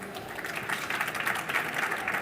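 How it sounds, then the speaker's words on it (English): Audience at an electronica 2024 round table on component obsolescence applauding the experts, a steady moderate wash of clapping that swells slightly midway. "A big applause for all of here"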